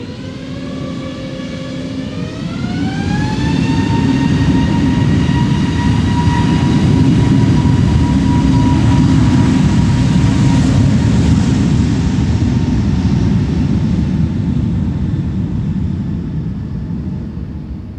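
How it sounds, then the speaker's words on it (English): An Airbus A321neo jet takes off from Schiphol's Polderbaan runway 36L, a loud, steady engine roar with a rising whine that swells, holds for many seconds, then slowly fades as the plane climbs away. "It's an A321neo"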